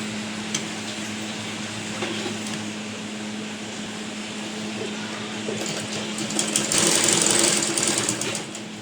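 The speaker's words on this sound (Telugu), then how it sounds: "ఇప్పుడు కుట్టు పెడుతున్నాం" A sewing machine stitching a shirt in a tailoring class: a steady mechanical whir and clatter up close that grows louder and busier toward the end, with no talk.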